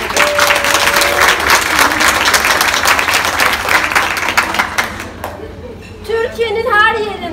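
An audience breaks into loud, sustained applause, dense clapping that fills most of the stretch before thinning out as a voice begins speaking near the end.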